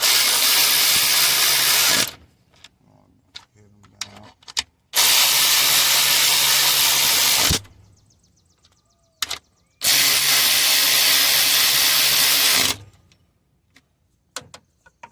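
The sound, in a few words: power tool tightening 10mm starter bolts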